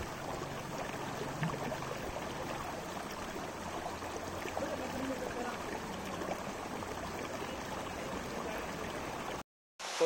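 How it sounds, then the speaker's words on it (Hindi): Water pours steadily into a large pool beside an old highway near Katra, a continuous broadband rush that stays close and even for about nine seconds before cutting off, with no talk over it. "जैसा कि आपको आवाज़ आ रही होगी पानी की, क्या ज़बरदस्त आवाज़ आ रही है"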